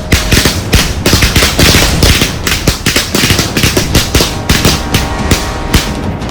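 Rapid bursts of gunfire crack out during a film shoot, dense and loud, with irregular volleys of shots running continuously throughout, close to the listener.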